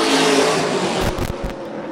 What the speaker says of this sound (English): And these cars are screaming. Love the sound of that side exit exhaust.